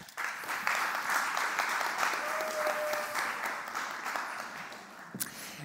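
Audience at a hackathon closing event applauds steadily for about five seconds, a fairly close, even spread of many hands clapping before it drops off at the end.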